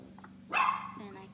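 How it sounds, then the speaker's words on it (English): A single sharp dog bark rings out at moderate distance, followed by a softer trailing yelp over a steady background hum. "Sorry about the dog."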